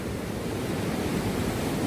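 Ocean surf rolls steadily onto Dreamland Beach at Uluwatu, Bali, a continuous broadband wash of breaking waves with some wind across the microphone and no voices.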